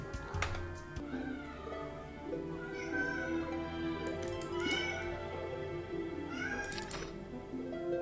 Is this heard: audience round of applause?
no